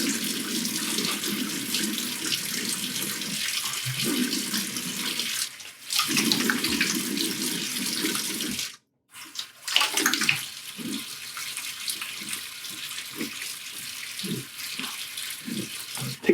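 A bathroom tap runs steadily while someone rinses off after a shave with a brass safety razor. There is a brief break in the flow, then splashing water and hands rinsing over the stream.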